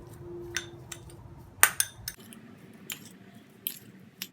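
Sugar and potato juice are stirred together in a bowl for a homemade face scrub, with sparse, quiet clinks and taps of a spoon against the bowl. There is little else in the background.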